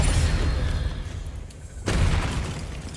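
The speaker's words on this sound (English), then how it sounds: "spiders are exploding quick, man" A spider bursting apart from a spell in the Hogwarts Legacy video game: a loud, broad boom rolls for over a second, dips briefly, then a second heavy blast surges and fades out, with no talking.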